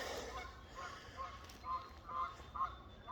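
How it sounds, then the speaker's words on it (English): Canada geese honking as they fly over, a few distant nasal calls repeating at uneven intervals over a steady outdoor background hum. "a couple more honkers heading to Ottawa"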